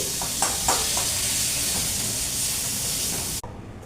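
Pointed gourd (potol) pieces sizzle in hot oil in a pan, a steady, close frying hiss with a few scraping stirs as the pieces are lifted out; the sizzle cuts off abruptly near the end.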